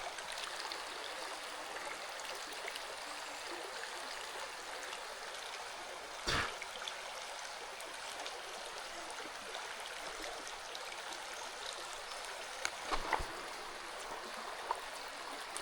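A small, healthy brook trout creek flows steadily nearby, a constant soft rushing and trickling with a couple of faint brief knocks, no voices.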